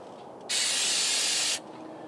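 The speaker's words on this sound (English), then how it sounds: "We're going to spray that on there." MAF sensor cleaner hisses from an aerosol can onto the mass airflow sensor screen of a Camaro 3.8 GM engine, one sharp sustained spray burst of about a second between quiet stretches.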